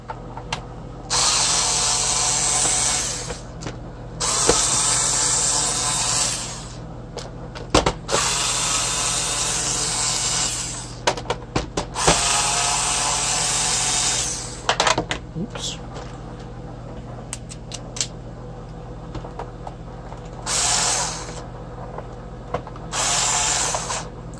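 A power drill whirs in repeated bursts of a few seconds each, removing screws from an iRobot Roomba, with clicks and ratcheting between runs, up close and loud.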